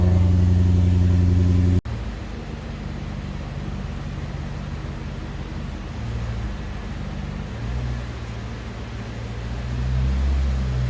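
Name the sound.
Maserati car engine warming up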